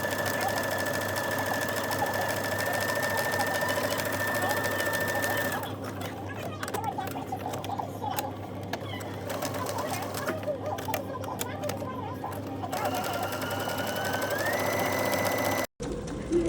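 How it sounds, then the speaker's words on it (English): A sewing machine top-stitches along the edge of a fabric bag strap, running in long continuous buzzing stretches with brief pauses and a shift in speed near the end; close and fairly loud. "the next thing I'm going to do is top stitch along the edge"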